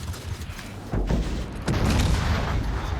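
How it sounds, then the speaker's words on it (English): Torpedoes strike a battlecruiser in a naval video game: two heavy, booming impacts land about a second apart, each followed by a rumbling tail over low background noise. "So I have to take Volron's torpedoes."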